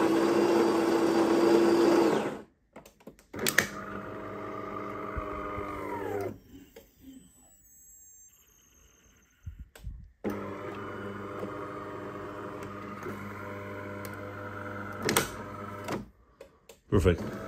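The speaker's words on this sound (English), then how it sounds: "This is how we can use the coffee grinder to just grind everything." A Delonghi bean-to-cup machine grinds coffee beans in loud bursts of whirring grinder noise, with short pauses between runs.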